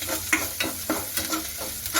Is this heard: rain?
no